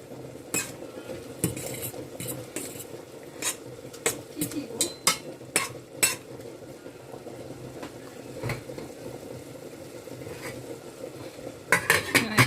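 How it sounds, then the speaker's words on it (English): Spicy noodles being stirred in a pot on a stove, a run of sharp utensil clinks and scrapes against the metal under a steady low simmering bed, then a brief cluster of louder clatter at the end. "Give it a stir."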